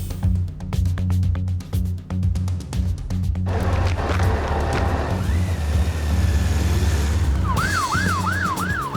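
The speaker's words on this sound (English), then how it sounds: "On his Yamaha FJR 1300, Mark can cut through the traffic faster than an ambulance" A paramedic's Yamaha FJR 1300 motorbike responds to an emergency call. Its engine roars loudly through traffic, then a wailing emergency siren rises and falls in a steady repeating cycle near the end.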